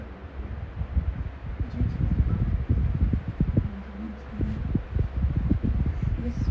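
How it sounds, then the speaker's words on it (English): A 1979 Cool-Time amber brown desk fan runs on its low setting, giving a soft, steady airy whoosh with faint rustle and light handling bumps nearby. "All right, let's run this fan."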